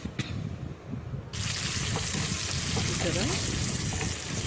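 Raw prawns frying in oil with dried red chillies and curry leaves give a loud, steady sizzle that jumps up when the ingredients are added, with brief talk at the start.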